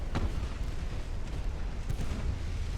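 Naval gunfire from port side batteries in Ultimate Admiral: Dreadnoughts rumbles as a muffled, continuous low booming barrage, with a couple of distant blasts standing out over the battle noise.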